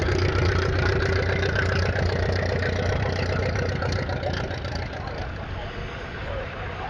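A vintage tractor engine runs at a steady loud throb at a show, a deep rhythmic chug sustained throughout and easing slightly toward the end.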